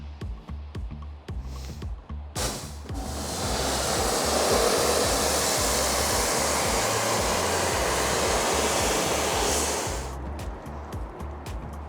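A pressure washer rinses citrus wash off a car panel, its hard spray rising into a loud steady hiss for several seconds between quieter bursts and a low rhythmic pump thump underneath.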